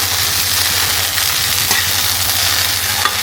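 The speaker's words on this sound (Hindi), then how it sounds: "यहाँ पे भिंडी फ्राई हो चुकी है और अब मैं इसमें डाल दूँगी प्याज" Okra fries in a pan with onion and raw green mango, giving a loud, continuous sizzle with steady crackling throughout and a faint low hum underneath.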